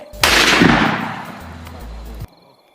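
Gunshot sound effect in a Thai audio drama: one sharp, loud blast with a long reverberant tail that fades away over about two seconds, then cuts off.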